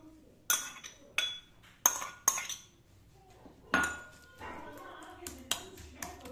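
A metal spoon stirring fried onions and masala into fish qorma in a pot, sharp clinks and scrapes against the pot in an irregular series, fairly close, with quieter scraping between the strikes.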